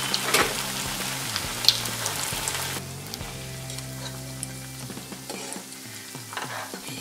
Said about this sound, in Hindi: इस तरह से सभी पॉकेट्स हम फ्राई कर लेंगे।